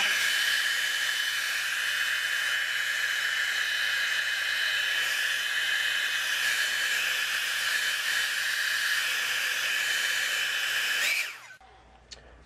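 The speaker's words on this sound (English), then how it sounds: "you want to take your blow dryer and then dry it" A handheld blow dryer runs on its cool setting to dry damp hair styled for drag, a steady close whirring hiss that holds for about eleven seconds before switching off abruptly.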